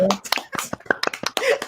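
A few people on a talk show clap sharply and unevenly in a quick scattering of claps, mixed with talking voices.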